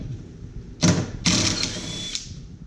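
An electric impact wrench works on bolts during a trailer hitch install on a Lexus IS300. Two close, loud bursts of rattling hammering, the second longer with a whining tone, and then the tool stops.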